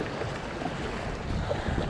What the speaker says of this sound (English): It's a bit windy. Actually, it's quite windy.